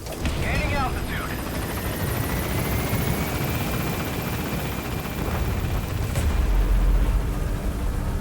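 A military transport helicopter in Metal Gear Solid V lifts off from a landing zone, its steady rotor roar and engine whine filling the scene continuously, with a low rumble building near the end.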